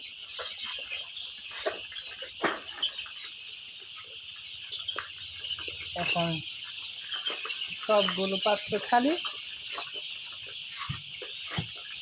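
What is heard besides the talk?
chickens clucking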